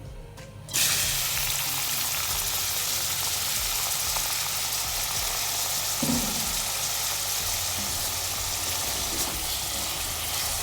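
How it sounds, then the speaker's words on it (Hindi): Chopped tomato, onion and small green chilli shallow-fry in a kadai, a loud, dense, even sizzle that kicks in abruptly after a brief quieter moment and holds steady throughout. "बस शैलो फ्राई करूँगी।"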